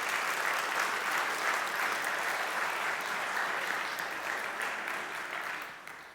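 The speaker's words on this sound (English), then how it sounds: "Will you just give her a warm round of applause, please?" A church audience gives a warm round of applause, dense steady clapping from many hands that holds for several seconds and then gradually thins and fades.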